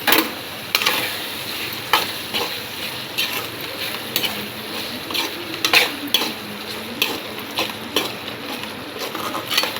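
Chicken liver pepper fry stirred in a pan, with a steady sizzle under frequent close metal spoon scrapes and clinks against the pan at an uneven rhythm, no talking.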